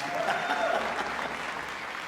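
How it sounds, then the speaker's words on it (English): Audience applause for Wrexham AFC at a Dancerama 2023 event, a steady wash of clapping from a crowd, fairly even throughout with faint voices mixed in. "Round of applause for the AFC."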